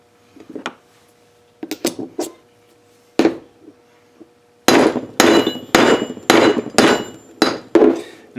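Hammer blows drive a coin ring punch through a die held tightly in a stretcher; sparse sharp strikes at first, then a steady run of loud, evenly spaced metallic hits.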